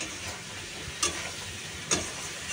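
Spices and grated ginger sautéing in a pan, a steady low sizzle with two sharp scrapes of a spoon against the metal as the mix is stirred.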